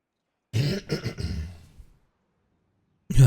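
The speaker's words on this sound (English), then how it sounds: "I'll probably have to clear my throat once or twice in the video" A person clears their throat once with a rough rasping burst and short follow-up grunts, close and alone, then silence before another short throaty sound starts at the end.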